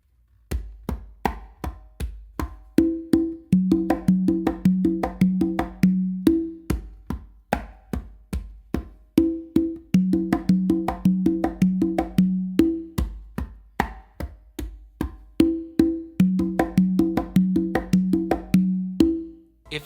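Slow tumbao exercise on conga and tumba, steady hand strikes alternating open tones with slaps and muted bass touches in a repeating pattern, close and dry, no voices.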